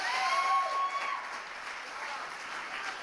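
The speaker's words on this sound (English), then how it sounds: "How about a little round of applause?" Wedding guests at a lodge reception break into a steady round of applause, a dense wash of clapping that swells briefly at the start and then holds evenly throughout.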